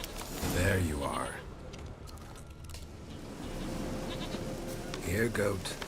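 A goat in The Witcher 3: Wild Hunt bleats twice, once near the start and again at the end, fairly close and loud over a steady outdoor ambience while someone talks.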